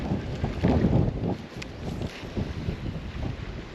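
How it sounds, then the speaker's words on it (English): Strong wind roars over the microphone while bass fishing from a boat, a steady loud gusting rumble with surging peaks, heard alone. "The wind took that wherever it wanted to go."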